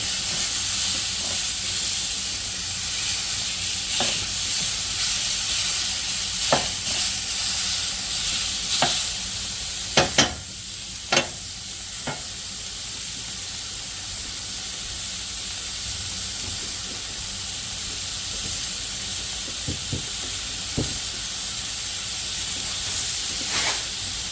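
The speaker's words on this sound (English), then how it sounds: "we'll squidge it around with a wooden spoon" Elk chili sizzles steadily in a pan while being pushed around with a wooden spoon, a constant close frying hiss with occasional soft scrapes and knocks from the spoon, no voices.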